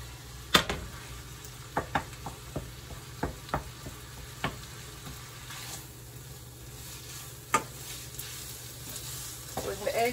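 Soft scrambled eggs fry quietly in a pan while a utensil breaks them up. Irregular taps and scrapes sound over a low, steady sizzle with a background hum.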